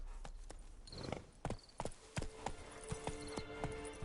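Roach the horse in The Witcher 3 game world, clip-clopping along at a brisk pace with sharp, near hoof strikes in an uneven rhythm, a faint whinny-like cue among them.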